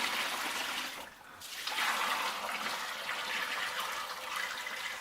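Water pours into an Xtremepower electric portable compact washing machine in a steady, rushing gush, briefly breaking off before resuming and continuing close and loud.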